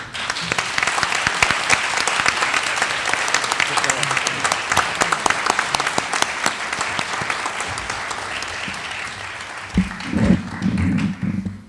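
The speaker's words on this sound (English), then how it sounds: "Let's give them another round of applause for her" Sustained applause from an audience at a Martin Luther King Jr. event, dense and steady clapping for about ten seconds before it thins out near the end.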